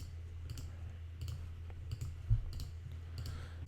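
Mouse clicks while adjusting brush settings in Photoshop, a handful of light, close, evenly spaced clicks over a low hum, no voices.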